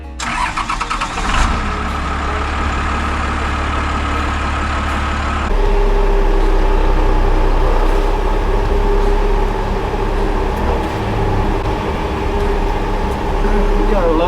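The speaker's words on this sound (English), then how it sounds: "Put in first gear, rev her up" The Ratback car's engine, in first gear on an off-road recovery, revs hard and loud up close, then settles into a strong, steady drone with a higher pitch.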